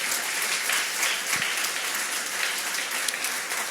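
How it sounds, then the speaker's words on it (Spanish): A church congregation claps loudly and continuously at a Sunday afternoon service, many hands blending into a dense, even roar without pause. "Dale un fuerte aplauso a nuestro Señor Jesucristo en esta tarde."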